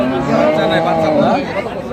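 A Friesian dairy cow at the Kaharol cattle market in Dinajpur gives a loud, close, sustained moo lasting about a second, over a steady murmur of crowd chatter.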